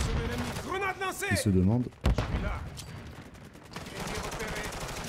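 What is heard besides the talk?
gunfire in Call of Duty Modern Warfare III video game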